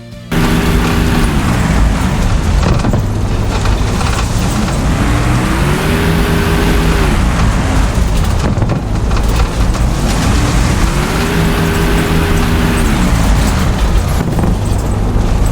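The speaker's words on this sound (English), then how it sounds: "you will be able to hear the engine choking" Spitfire Mark II piston engine in War Thunder choking under negative G, a loud continuous engine roar whose pitch dips and rises in slow sweeps, with rough, stuttering texture throughout.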